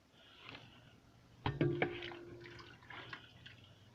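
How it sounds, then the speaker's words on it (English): Water draining from blanched celery into a sink, a short burst of splashing and trickling with scattered drips afterward, close and fairly quiet. "And there we go, draining the celery."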